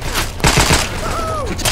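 Gunfire in Left 4 Dead 2 cracks in a quick run of loud, close shots over constant game noise.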